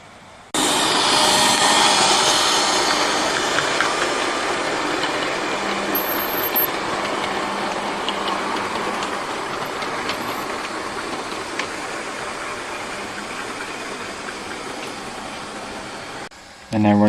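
A diesel locomotive runs at the Great Western Railway Festival in January 2013, its loud engine roar rising sharply then easing slowly as it rumbles along, cutting off abruptly near the end.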